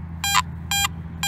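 A metal detector sweeping over a buried target gives three evenly spaced, sharp electronic beeps, close and clear over a low steady hum.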